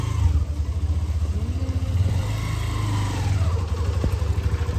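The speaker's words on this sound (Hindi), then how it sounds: "वैसे गाड़ी का जो साउंड है वो भी काफ़ी डाइल्यूट हो गया," A Hero Xtreme 125R motorcycle engine after its first service idles close by with a steady, pulsing mid-pitched rumble and slight revs, heard alone without talk.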